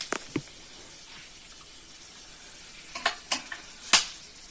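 Cumin seeds added to hot oil with roasted whole spices, a soft steady sizzle broken by several sharp spoon scrapes and clinks against the pan, a louder stirring scrape near the end.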